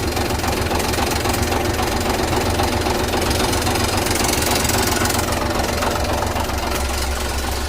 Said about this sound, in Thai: เสียงอันนั้นมันเป็นเสียงเหล็กกระแทกกันเฉย